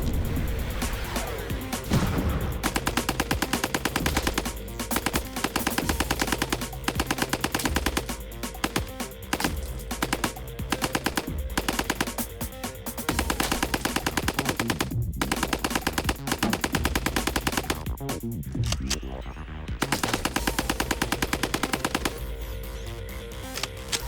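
An M2 heavy machine gun fires long sustained bursts, loud and close, a dense rapid hammering that runs nearly the whole time with only brief breaks between strings of shots.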